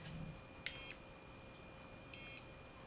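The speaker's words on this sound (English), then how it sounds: "you can put it on just low, and it beeps a couple times" A Pure Wave CM7 cordless massager gives two short, clear electronic beeps, well separated, over a steady low hum in a quiet room.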